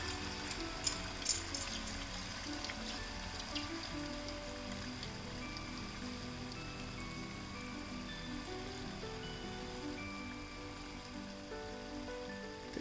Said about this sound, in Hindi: बस इसको फ्राई होने देते हैं, एक साइड फ्राई हो जाएगा तो दूसरी साइड भी टर्न कर देंगे